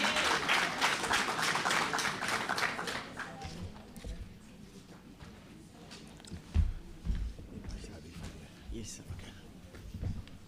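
Audience applause at a World Teachers Day school ceremony greeting the Provincial RCL Council president, with steady clapping that is loud at first and fades into scattered claps and room noise.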